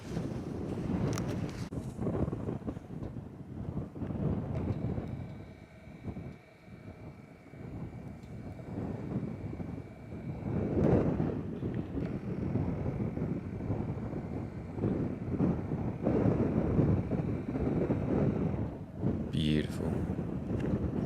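Wind gusts buffet the microphone on a Pacific Crest Trail hike, a rough low rumble that swells and drops over twenty seconds, with a voice speaking at times.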